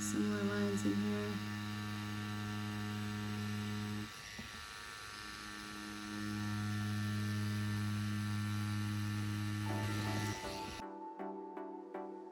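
A tattoo machine buzzing steadily while lining skin, a close electric hum that drops briefly and resumes before cutting off near the end, with no talking.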